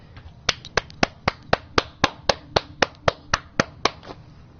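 A single pair of hands claps in a slow, steady rhythm, about sixteen sharp, close claps evenly spaced over a quiet background.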